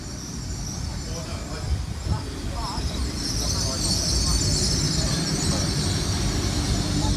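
A train bound for Exeter rolls into the platform with rumbling wheels and faint metallic squeals, a steady, fairly close mechanical roar that builds toward the end.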